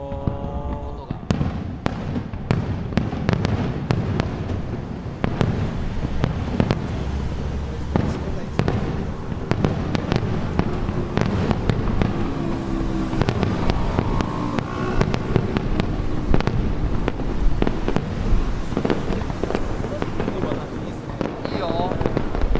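Fireworks at the Atami fireworks festival in Japan, with a mountain behind, boom and crackle in a dense, steady barrage for the whole stretch, the bursts ringing and echoing, with crowd voices faint underneath.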